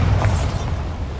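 A Bombarda spell explosion in the video game Hogwarts Legacy, a short, loud, booming burst with heavy low rumble that fades within about a second.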